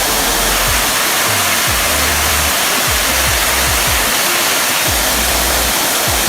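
A small waterfall at a hidden mini falls in Santol, La Union roars steadily and loudly, a constant rushing wash of falling water with low thumps scattered underneath.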